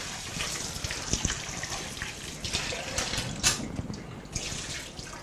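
Food items are rinsed under a running kitchen tap while making an omelette, giving a steady close wash of water with scattered splashes and light clatter, no talking.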